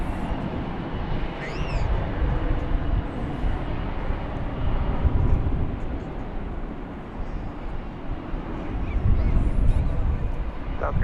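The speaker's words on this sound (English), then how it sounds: "That 737-800 just touched down from San Jose, California." A Boeing 737-800 jet rolls out at DFW Airport after touching down from San Jose, a broad roar of engine noise that swells and eases with faint high whines over it, no voices.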